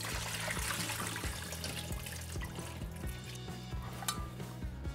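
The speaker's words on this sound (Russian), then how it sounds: "Сливаем воду с редьки." Water drains from soaked radish into a sink, pouring and trickling steadily at a low level, with faint clinks of a vessel near the end.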